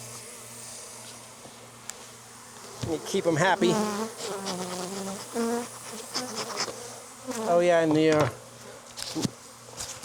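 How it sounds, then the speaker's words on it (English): Honey bees buzz close to a microphone at a Florida apiary hive, a continuous near drone running throughout while someone talks intermittently over it. "Buzzing bees on your microphone."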